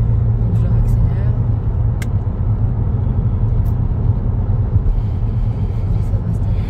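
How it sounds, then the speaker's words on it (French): A car on the road speeds up again to 90 during a driving lesson, a steady loud engine rumble and road drone filling the cabin, with people talking over it. "Et là, c'est 90. Donc, je réaccélère."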